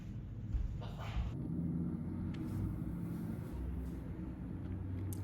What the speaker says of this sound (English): Man, that traffic is loud today.